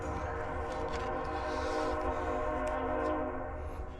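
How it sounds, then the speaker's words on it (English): A passing train rumbles steadily nearby with a sustained horn-like tonal sound over the continuous roar of the cars, holding loud throughout. "Here comes another train."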